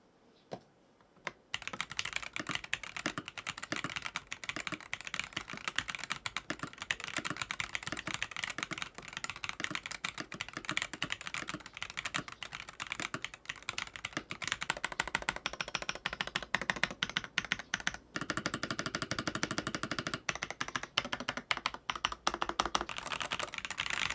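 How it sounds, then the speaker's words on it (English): Steady, close typing on a stock AULA WIN60HE magnetic keyboard, a budget 60% board, with rapid keystroke clatter throughout and a few louder bursts, no talking. "let's go ahead and listen to the default or stock sound of the keyboard first"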